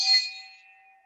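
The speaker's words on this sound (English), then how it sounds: "we ring the Rotary bell" A Rotary club meeting bell struck once with a wooden spoon, giving a single bright ding that rings on and slowly fades, heard close and alone.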